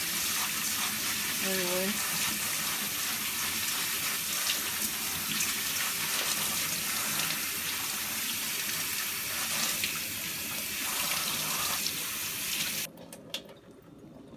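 Lentils are washed under a running kitchen tap, a steady hiss of flowing water that continues for most of the clip and then cuts off near the end. Brief speech is heard.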